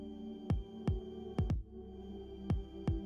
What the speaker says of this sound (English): Or you can even share something as personal as your own heartbeat.